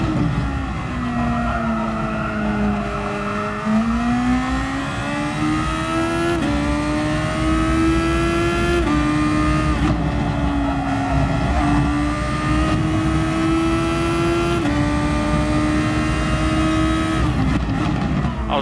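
Race car engine in a racing video game, a loud sustained high-revving drone that climbs and dips through gear changes and throttle lifts, with occasional tyre squeal, close and continuous with no talk.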